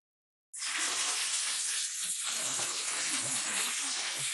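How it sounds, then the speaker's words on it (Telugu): Okra (bendakaya) hitting hot oil on a stove bursts into a loud, steady hissing sizzle that starts abruptly after a moment of silence and keeps going. "కొద్దిగా స్టవ్ మీడియంలో పెట్టుకొని ఫ్రై చేసుకోవాలి"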